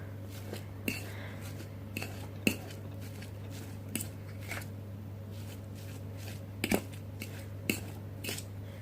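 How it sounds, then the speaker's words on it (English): A utensil mashes butter into a zero-carb keto mashed potato substitute, making soft, squishy pressing sounds with sharp clicks and taps against the dish at irregular intervals over a steady low hum. "You mix the butter by mashing it up further actually."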